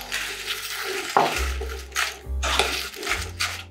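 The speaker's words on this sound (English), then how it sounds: "Mix that together" Crème fraîche being stirred together in a bowl for Eton mess, a few soft scraping and clinking strokes with a low kitchen hum behind them.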